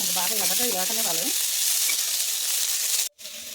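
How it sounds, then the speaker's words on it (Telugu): Onion pieces for brinjal fry crackle and sizzle steadily in a hot pan, a dense frying hiss under brief light music that cuts out near the end. "ఇది ఎర్రగా వేగిపోయినాయండి ఉల్లిపాయ ముక్కలు"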